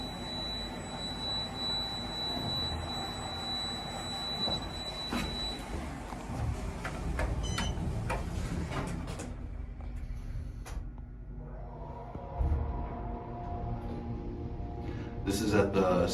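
Otis hydraulic elevator at a lacrosse stadium in Denver, riding up into the bleachers: a steady low machinery hum and rumble throughout, with clunks and a brief door-slide rattle near the end, no talk.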